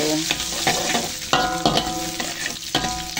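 Cooked rice being stir-fried in a pan for simple nasi goreng lada kering, a loud close sizzle with repeated scraping and clanking of the spatula against the pan in an uneven rhythm.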